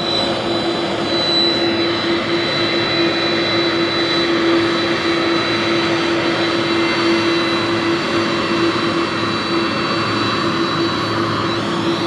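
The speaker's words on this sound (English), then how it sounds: "Okay, and there it is, Air Force One." Air Force One arriving at West Palm Beach, Florida, a loud, steady jet engine roar with a whining tone holding throughout, close and unbroken with no talk.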